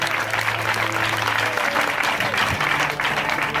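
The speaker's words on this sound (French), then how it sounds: "Est-ce qu'on peut donner acclamation au Saint-Esprit?" A church congregation applauding and acclaiming during a French-language Sunday service, a dense burst of clapping from many hands, loud and steady, with a sustained tone and brief voices beneath it.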